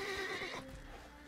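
A horse in the video game The Witcher 3 gives a single short, loud whinny close by, followed by a faint low snort as it settles.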